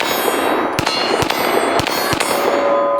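Pistol shots striking targets, a steel gong among them: four sharp, loud cracks ring out in quick uneven succession over a steady bed of outdoor noise.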